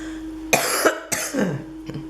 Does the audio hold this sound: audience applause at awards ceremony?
no